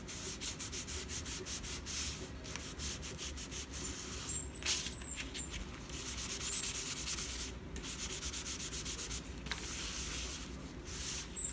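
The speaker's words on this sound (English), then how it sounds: "Press it down. Wipe up any excess glue." Rubbing and wiping on paper as excess glue is cleared from a pressed-down bellyband on a junk journal page, a steady close scuffing with brief pauses and no talk.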